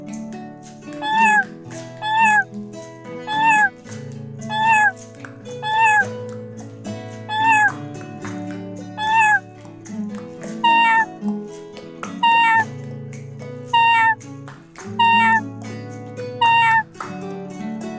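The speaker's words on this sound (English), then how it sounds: "Let's meow like a cat." A cat meows repeatedly, about a dozen clear meows spaced evenly over steady music, each one close and loud.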